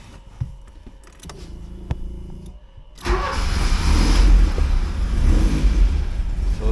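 A 1979 Porsche 924 engine cranks briefly and catches, then settles into a loud, steady idle close by, after a few faint clicks and rustles inside the car.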